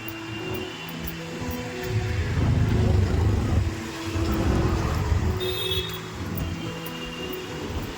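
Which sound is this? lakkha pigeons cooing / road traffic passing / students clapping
road traffic passing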